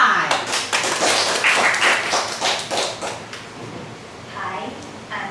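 A classroom audience claps to welcome student presenters at a business communication presentation, a brief burst of scattered hand claps that thins out after a few seconds while people talk.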